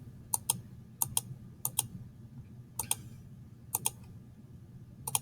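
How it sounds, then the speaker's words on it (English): Sharp mouse clicks sound in quick pairs, about five double-clicks spread evenly, close and fairly quiet, over a low steady room hum with no talking. "I'm going to click to the end."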